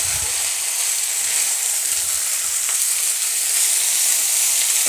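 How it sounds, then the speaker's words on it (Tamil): Banana blossom fries in about three spoons of sesame oil, giving a dense, even hiss and crackle. The sizzle is close and loud and holds steady, with faint low bumps and no voices. "இந்த எண்ணெயில் நல்லா இந்த வாழைப்பூ நல்லா வதங்கணும்."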